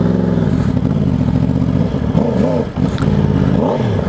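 A 2020 Yamaha R1 sportbike fitted with a 15-tooth front sprocket, loud and close as it pulls away, engine revving up through rising and falling pitch sweeps with a brief dip, no talk.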